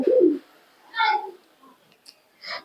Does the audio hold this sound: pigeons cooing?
yes